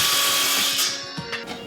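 A power saw cuts through a wooden board for a toy box, a loud whining buzz that sounds close up and continuous, with slight shifts as the blade bites.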